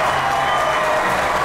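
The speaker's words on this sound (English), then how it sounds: "round of applause for that" A short burst of clapping and light crowd noise, a steady dense patter of applause heard briefly on its own.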